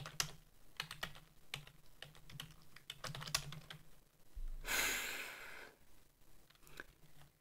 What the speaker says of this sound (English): I hit the wrong keyboard combination.